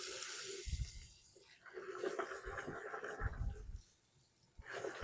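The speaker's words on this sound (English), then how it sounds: "So I'm putting this in a warm water bucket" Warm water runs from a tap into a bucket for soaking freshly spun Corriedale wool yarn, a steady splashing gush that surges and briefly drops away near the end.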